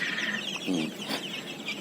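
Big-footed chicks nearly a month old peep and cluck at a Thai farm, a steady close chorus of small bird calls filling the moment without any voices.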